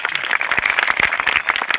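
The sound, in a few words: audience applause for Ambedkar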